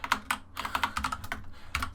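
Rapid, irregular clicking of keys on a computer keyboard while software libraries and tools are built on Linux, close and fairly quiet, in short bursts with brief pauses and no talking.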